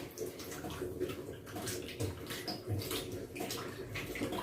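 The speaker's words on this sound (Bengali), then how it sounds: "পটলটা ধুয়ে নিলাম" Running tap water splashes steadily over pointed gourds being rinsed in a home kitchen, a continuous close gushing with small irregular spatters.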